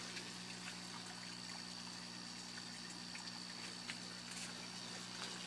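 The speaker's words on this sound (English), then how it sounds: "I'm going to turn off these pumps here." Aquaponics pumps run steadily in a buried trout tank system, giving a continuous, even hum with a constant low trickle and splash of moving water throughout, close and unbroken.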